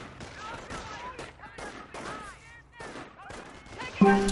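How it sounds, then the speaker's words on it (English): Grenade blasts and gunfire in a World War II strategy video game, a rapid run of sharp explosive bursts with crackling shots and a loud blast near the end, under excited commentary. "more grenades going off"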